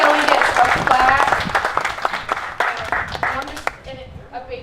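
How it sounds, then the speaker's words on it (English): An audience at a lobster festival seafood cooking contest claps and applauds, with a dense burst of hand claps that gradually thins and fades, and a voice speaking over it. "Everybody give a round of applause."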